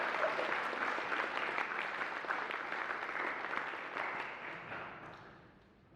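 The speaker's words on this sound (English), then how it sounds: "I suggest you give them a warm round of applause" Warm applause from an audience at a symposium keynote, a dense, even round of clapping filling the room that gradually dies away at the end.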